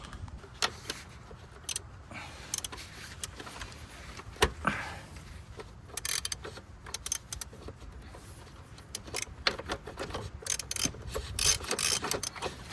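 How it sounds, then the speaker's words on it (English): Socket and ratchet tightening a bolt on a 2.0 TFSI Audi B7 A4, heard as sparse, fairly quiet mechanical clicks and metallic taps scattered across a low background hum with no talking. "I tightened it up just till it was tight, you know, kind of got a good crank on it."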